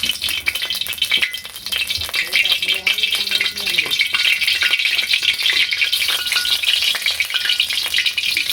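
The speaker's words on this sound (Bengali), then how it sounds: "তো এই যে কড়াই গরম হয়ে গেছে, তেল দিয়ে দিলাম" Fritters fry in hot oil in a wok over a village cooking fire, producing a loud, continuous crackling sizzle with occasional stirring rattles and no pause.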